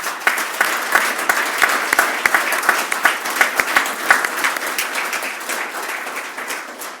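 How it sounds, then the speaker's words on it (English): A round of applause for outstanding teachers at an award ceremony, many hands clapping loudly and steadily with distinct sharp claps standing out, sustained across the whole stretch and slowly tapering near the end. "let's give them another round of applause"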